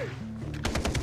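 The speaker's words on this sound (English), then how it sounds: "I have a hardcore silencer on here." Silenced sniper rifle shots fired in the Far Cry 3 co-op video game, a rapid burst of four or five sharp suppressed reports in quick succession following a low rumble of game ambience.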